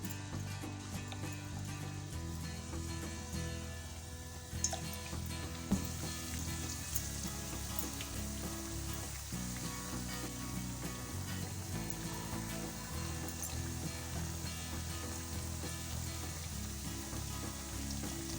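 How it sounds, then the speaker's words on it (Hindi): Battered potato fritters fry in oil over a medium-low flame with a soft, steady sizzle and faint crackle throughout, quiet and unbroken. "अब आलू को फ्राई कर लेते हैं। अब इस बैटर में आलू को डिप करेंगे और इसके अंदर डालते जाएंगे।"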